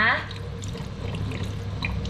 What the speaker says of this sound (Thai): ให้ล้างน้ำไหลผ่านแบบนี้นะคะ